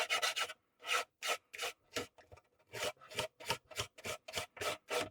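Rough back-and-forth sanding strokes on a small part of a USS Reliant scale model, close and dry, coming in quick bursts with short pauses and no voice.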